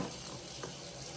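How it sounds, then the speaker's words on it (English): Hot tap water runs from a kitchen faucet while a sourdough starter is being mixed, a steady, close, unbroken rush of running water filling the whole moment with no talk. "So tap hot water."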